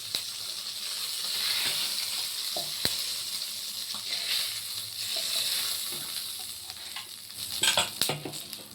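Oil sizzles and hisses steadily in a pan right after small eel-like bain fish were fried and lifted out, a continuous close frying noise with a few clinks and stirring scrapes.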